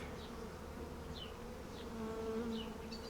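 Honeybees hum and buzz steadily around a newly moved hive box, a close, continuous drone with individual bees passing near now and then.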